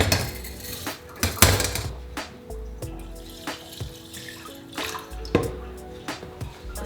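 Sushi rice being rinsed in water at a kitchen sink, with intermittent splashing, swishing and dripping, and a few sharp clinks against the bowl.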